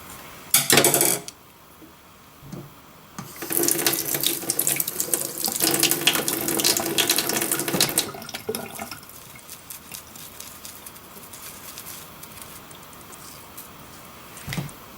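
Running tap water splashes loudly onto a paint brush and into a sink as the bristles are rinsed free of soap, with bursts of strong flow between quieter trickling and drips.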